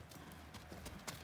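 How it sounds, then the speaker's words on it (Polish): Horses' hooves clop on the floor of a home stable as several horses walk in, with soft, irregular footfalls over a noisy background. "idzie reszta koni"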